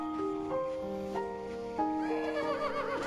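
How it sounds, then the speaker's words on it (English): A horse in a Zelda video game whinnies with a short, tonal neigh over a light game soundtrack, with no talking. "My horse."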